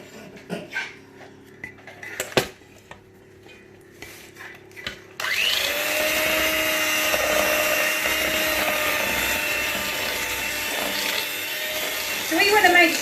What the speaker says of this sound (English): it's going to get a little bit noisy for a minute while we use the whisk